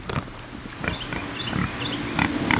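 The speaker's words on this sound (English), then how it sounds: "we need to move these two pigs out" Two farm pigs grunt and oink repeatedly up close while being coaxed along with feed, with a few brief voices and shuffling around them.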